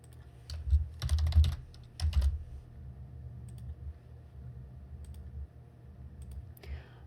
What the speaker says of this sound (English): if my keyboard is too loud, I'm sorry